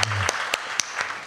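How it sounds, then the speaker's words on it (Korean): Congregation applause during a Korean-language Sunday church service, a brief burst of clapping with a few sharper individual claps standing out, fairly close and fading slightly. "찬양을 받으신 주님께 감사와 영광의 박수 올립니다"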